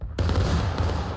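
A loud massed musket volley in the War of Rights video game: after a brief quiet, a sudden ragged crash of many shots goes off at once, then a rolling, echoing rumble that stays dense through the rest.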